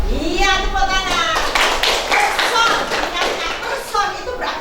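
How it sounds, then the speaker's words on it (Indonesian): Classroom applause from schoolchildren, a dense patter of hand claps close by and moderately loud, with children's voices calling out over it. "Iya, tepuk tangan."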